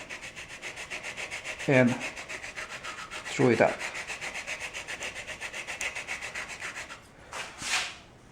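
Steady rubbing of a sanding block on wood of a model wing tip runs throughout at moderate loudness, with two brief louder bursts of a spoken voice over it.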